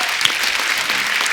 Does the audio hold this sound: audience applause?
yes